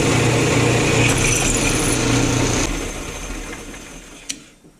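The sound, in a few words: drilling holes in metal cabinet brackets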